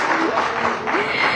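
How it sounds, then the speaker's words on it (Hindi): Applause from a conference audience welcoming a speaker onstage, a dense continuous patter of clapping heard with a voice speaking over it. "ताली बजाकर उनका स्वागत करते हैं।"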